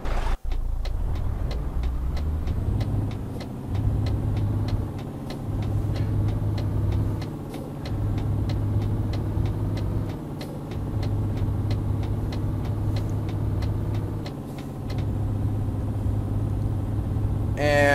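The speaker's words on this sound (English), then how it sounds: "It's such a tiny truck that's actually rolling." A very small truck rolls along with a steady low engine rumble and drone close by, holding throughout with slight dips in level and faint ticking on top.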